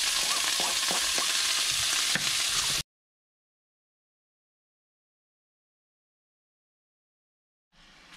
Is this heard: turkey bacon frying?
yes